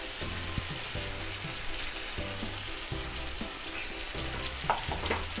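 Lemon pepper chicken sizzles steadily in a frying pan while pepper is stirred through it, with repeated soft scraping strokes of a spoon over the continuous frying hiss, close and even throughout.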